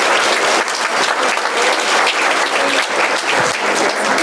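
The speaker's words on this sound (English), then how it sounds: "So let's have a round of applause for the Hilton Garden Inn." Audience applause for the Hilton Garden Inn hosts at a chamber of commerce women's achievement awards event, a dense, loud, sustained wash of clapping from a large crowd that holds steady throughout.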